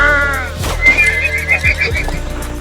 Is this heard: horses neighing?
yes